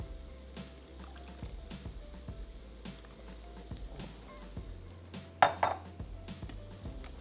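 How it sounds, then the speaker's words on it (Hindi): Half a kilo of rice tipped into a pot of hot, not yet boiling water, giving a short clatter and splash late in the clip over quiet kitchen background noise. "इसी के अंदर हमने हाफ केजी राइस शामिल कर देने हैं"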